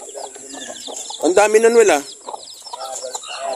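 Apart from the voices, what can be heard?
chickens and chicks clucking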